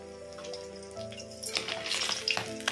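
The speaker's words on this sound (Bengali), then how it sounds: "মাছ ভাজা কমপ্লিট" Pabda fish fry in oil with a quiet sizzle that grows into loud, crackling spatter in the second half, over a faint tonal background.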